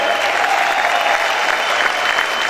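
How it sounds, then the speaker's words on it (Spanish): Sustained, vigorous applause from a church congregation, many hands clapping at once in an even, loud roar. "Aplaude."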